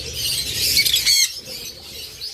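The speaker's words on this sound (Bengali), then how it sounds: "এরপর এখানে রয়েছে চমৎকার এক জোড়া লাভবার্ড" A pair of lovebirds flaps and squawks close by, a burst of busy wing flutter and harsh calls rising for about a second before easing into quieter rustling.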